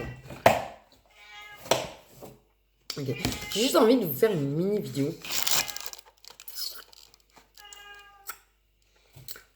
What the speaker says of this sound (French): j'ai envie de faire taire mon chat